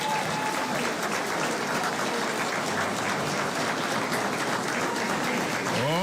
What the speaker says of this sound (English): This is a good place to give a round of applause